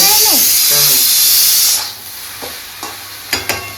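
Pressure cooker whistle shrieking loudly as steam hisses out in a home kitchen while desi chicken cooks, cutting off abruptly before a few light clinks and taps.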